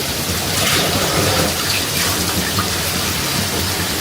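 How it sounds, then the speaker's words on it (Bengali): Water pours steadily into a curry of bottle gourd and potato, a loud continuous splashing gush that runs alone for the whole stretch. "আর তার পরপরই দিয়ে দেব ঝোলের জন্য একটু জল"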